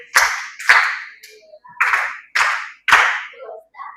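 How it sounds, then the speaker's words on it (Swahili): Children at a church kids' programme clap together for a child in short group bursts, about six loud sharp volleys spaced roughly half a second apart, close and crisp with brief silences between them. "Pigeni makofi na yeye."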